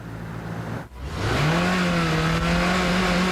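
A 2002 Acura RSX accelerates hard in a street-racing setting, engine note climbing steadily after a brief dip, loud and close throughout with no voices.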